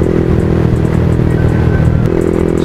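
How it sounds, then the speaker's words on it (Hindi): A Yamaha MT15 motorcycle on a ride hums with a steady, loud mid-pitched engine drone and rushing road noise throughout, no talking over it. "फिर भी अभी भी बाइक चल ही रही है,"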